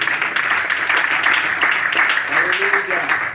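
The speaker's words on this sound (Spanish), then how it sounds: "Si crees que Él merece un aplauso, es el momento." Church congregation applauding, a steady wash of many hands clapping throughout, with a voice speaking over the applause.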